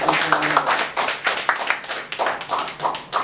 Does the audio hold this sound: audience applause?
yes